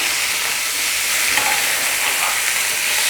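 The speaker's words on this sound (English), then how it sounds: "So you let them sizzle in that juice of the sausages" Sausages sizzle in their own juices in a hot pan for a Kenyan home breakfast, giving a steady, dense frying hiss with faint crackles throughout and no talking.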